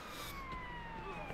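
A police car siren in GTA San Andreas wails on in steady sweeping tones over a constant low engine drone, close and fairly loud, with no voices.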